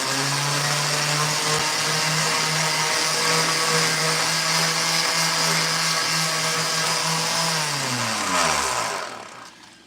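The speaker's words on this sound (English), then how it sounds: "I'm using a power sander" A power sander works on a wooden rocking horse in a workshop, a loud steady motor whine holding one pitch, then slowing and dropping in pitch as the tool spins down near the end.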